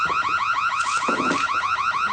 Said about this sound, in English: The alarm will be triggered.